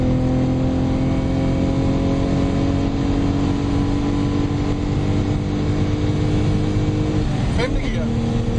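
Omega Lotus engine pulling hard in gear at high speed, a loud, sustained droning roar with rising pitch, wind and road noise, and a brief gear change near the end; a voice speaks over it.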